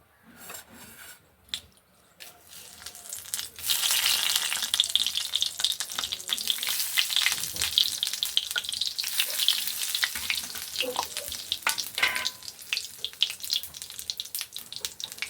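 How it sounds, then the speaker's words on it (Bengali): Whole cumin seeds and dried red chillies hit hot oil, and a loud, dense sizzle starts a few seconds in and holds steady with crackling spatters; stirring is also heard and no one speaks. "এই তেলের মধ্যেই এবার আমি হচ্ছে গোটা জিরে আর শুকনো লঙ্কা দিয়ে দেব"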